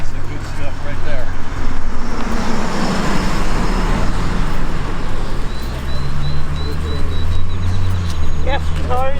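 Cars pass on a road close behind, a loud continuous rush of traffic with engines swelling and fading. Birds chirp faintly and people talk over the noise.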